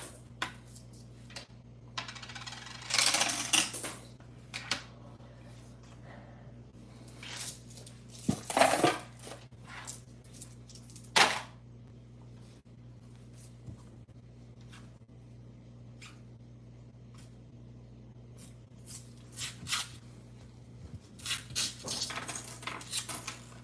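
Pennies from a roll of coins being handled, with bursts of jingling and clinking metal as they are poured and sorted, separated by quiet gaps over a low steady hum.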